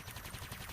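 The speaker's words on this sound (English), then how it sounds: "there are gunshots" Gunfire sound effect from a tabletop role-playing game session, a rapid burst of shots in quick succession, fairly loud and alone with no talking over it.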